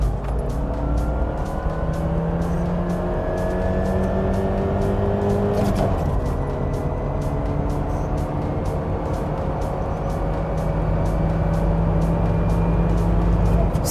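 A Lada Niva Bronto launches from a standstill with slight wheelspin and accelerates hard, its engine note climbing steadily through the gears. The engine drones loudly and continuously throughout.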